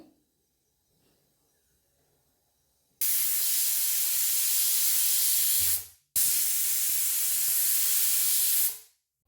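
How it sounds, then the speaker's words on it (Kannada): A pressure cooker on the stove, cooking fenugreek pulao, lets out two loud whistling steam bursts, each a sustained hiss of about three seconds, separated by a brief pause after a quiet start. "ಎರಡು ವಿಸಿಲ್ ಕೂಗಿಸಿಕೊಳ್ಳೋಣ ಎರಡು ವಿಸಿಲ್ ಬೇಯಲಿ"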